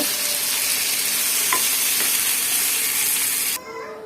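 Pointed gourd and potato stir-fry in a pan with a loud, constant sizzle and light stirring scrapes. The sizzle cuts off abruptly near the end, leaving quieter background.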